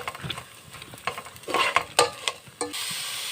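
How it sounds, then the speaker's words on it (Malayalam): Turmeric powder being sautéed in a pan for a jackfruit curry, with soft sizzling under quick scraping and stirring strokes of a spoon against the pan, close up and without any speech. "ഇതിനകത്തേക്ക് അകത്തേക്ക് കുറച്ച് മഞ്ഞൾപ്പൊടി മഞ്ഞൾപ്പൊടിയോട് ചേർത്ത് എല്ലാം നന്നായിട്ട് വഴറ്റി കൊടുക്കാം"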